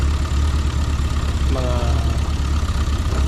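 An engine idles steadily with a constant low throb and faint vibration, while a voice speaks briefly over it.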